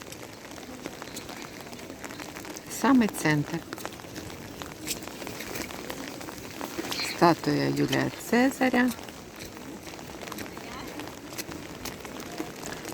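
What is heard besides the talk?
rain falling on the streets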